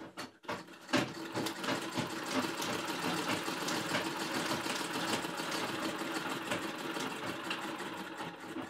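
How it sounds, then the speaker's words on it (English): A sewing machine stitches steadily across the top of a fabric face mask, a fast continuous mechanical whir and rattle after a brief start, nearby and unaccompanied by speech. "then sew across the top"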